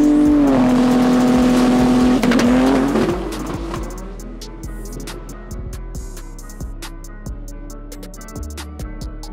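A Nissan GT-R launches in a drag race, its loud engine roaring and revving hard, then fading as the car pulls away, leaving a series of sharp clacks and knocks.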